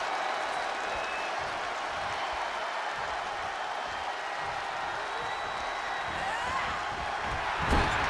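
Wrestling arena crowd at a televised women's championship tag match cheering and applauding in a continuous, loud, roaring wash that holds steady for several seconds, with a commentator speaking over it.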